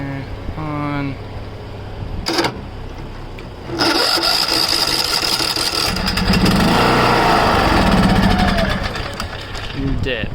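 A Craftsman LT 2000 Gold riding mower with a 21HP engine sputters into life after a quiet spell and then runs steadily and loudly, with a rough, rattling drone that holds to the end. A voice speaks briefly early on.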